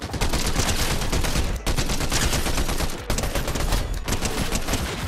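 Rapid gunfire from a mobile shooter video game, dense sustained bursts of automatic shots that stop briefly twice before resuming, loud and close, with no talking.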